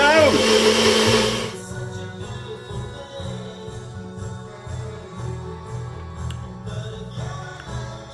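A blender pulverises carrot, kale, banana and raisins with a loud, high whirring roar for the first second and a half, then settles into a lower, steady churning drone as the load breaks down, close to the listener.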